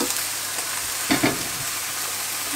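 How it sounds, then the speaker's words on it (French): Escalopes frying under a lid in a covered pan give a steady, even sizzle throughout, with a couple of brief louder clatters near the middle. "Le temps que mes escalopes cuisent."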